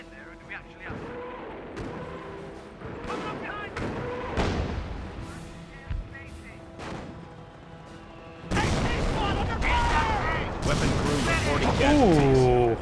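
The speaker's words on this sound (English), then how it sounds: "Ooh, that barrage was hyper accurate and nailed that AT gun." Artillery barrage in Company of Heroes, with repeated heavy shell blasts and gunfire crashing in irregular bursts and building to dense, loud impacts, while game voices speak in between.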